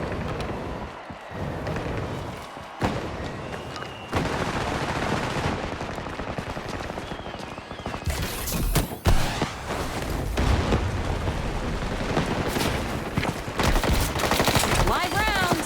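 Gunfire in the first-person shooter Combat Champions, with sniper rifle shots and rapid bursts cracking over dense game noise, loud and continuous, with sharper blasts around the midpoint.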